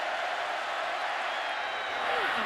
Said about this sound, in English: Crowd has come alive.